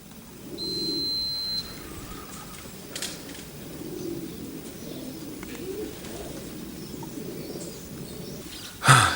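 Racing pigeons coo softly at the loft in a few low, murmuring bursts, with a faint chirp and a brief clatter at the end.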